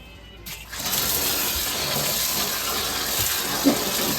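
Water runs steadily from a tap while items are washed during village-style outdoor cooking, a continuous close gush after a brief quiet start.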